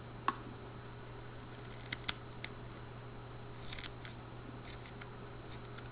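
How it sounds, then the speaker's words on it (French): Scissors cut silica wick for a vape coil, producing a few sharp, close snips spread over several seconds against a steady electrical hum and quiet room tone. "je vais recouper un bout proprement"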